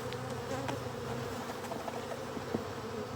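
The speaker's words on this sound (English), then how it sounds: "we got one or two bees here on the front" Honeybees buzz steadily at an apiary hive during an inspection, a close, continuous drone with a few individual bees flitting near the hive front.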